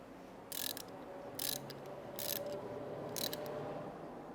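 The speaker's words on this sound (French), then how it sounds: "Là, je vais serrer le cavalier." A ratchet wrench tightens a main bearing cap on a V8 8.4-litre 511 ci engine in four short bursts of rapid clicking, spaced about a second apart over a quiet workshop background.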